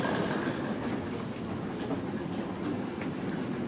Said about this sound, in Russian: Я сейчас сажусь на Аэроэкспресс в сторону Одинцова, чтобы просто проехать в нем по городу.